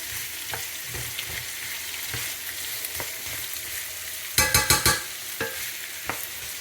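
Seasoned zucchini pasta with lemon pepper stirred in a hot pan: a soft, steady sizzle with scattered spoon scrapes, then a quick run of four or five louder stirring strokes near the end.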